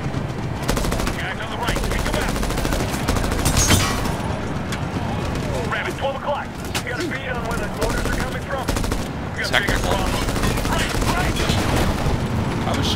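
Call of Duty video game combat: dense automatic gunfire and bursts of shots rattle continuously amid explosions and battle noise, loud and close, with voices talking over the action.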